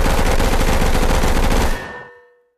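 A fully automatic gun fires one loud, continuous rapid burst that ends sharply, followed by a brief fading echo and a ringing tail.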